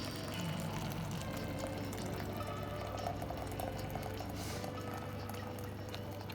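Boiling water pours steadily in a soft, continuous trickle with a faint low hum underneath, close by and fairly quiet.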